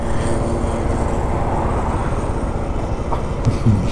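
A TVS Apache RTR 310 motorcycle engine is revved hard during a standing gear test, making a loud, steady, dense roar that holds without a break.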